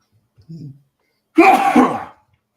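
A brief soft breath, then one loud close sneeze with a harsh burst of air.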